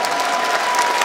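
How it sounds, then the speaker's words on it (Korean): A large outdoor audience at the Sungwoong Yi Sun-sin festival military band and honor guard event in Asan claps loudly with a dense, steady roar of hands. "여러분 뜨거운 박수 한번 보내주시겠습니까?"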